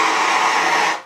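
Breathy rush of air blown through a saxophone without producing a tone, a steady close hiss lasting about a second before trailing off.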